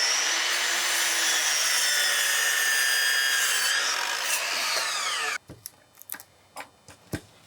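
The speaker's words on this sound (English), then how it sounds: "So give me a minute to get that post cut." A saw cutting through a wooden 4x4 deck post, continuous rasping strokes for about five seconds, then the cut ends and a few knocks and handling thumps follow, close up with no talking.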